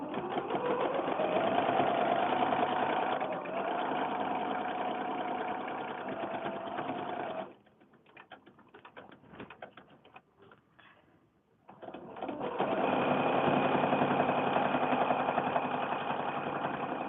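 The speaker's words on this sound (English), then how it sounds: "And we're off on a long sewing line." A sewing machine stitches a long seam on a mini quilt made from 4-inch swap blocks, running as a steady close whirring drone that stops for a few seconds of quieter handling clicks and then resumes just as strongly.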